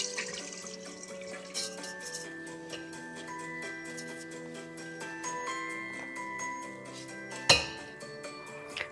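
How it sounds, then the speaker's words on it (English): Water and millet grain pour through a metal strainer into a vessel below, a soft running trickle dotted with faint metallic clinks and ringing tones, then one sharper clatter near the end. "the water has passed through the strainer and collected in the vessel below"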